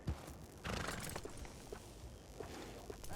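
A horse in the video game Red Dead Redemption 2 moves in quiet clip-clop hoof steps, faint and close, with a brief snort near the start.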